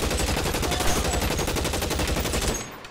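Rapid automatic gunfire rattles in the L.A. Noire video game, a dense string of loud repeated shots lasting about two and a half seconds before cutting off.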